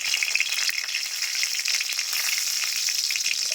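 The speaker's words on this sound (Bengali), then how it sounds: "শুকনো লঙ্কা দিয়ে দেবো তেলে" Dried red chillies fry in mustard oil in a kadai with a loud, continuous crackling sizzle, heard close up and alone without any talking.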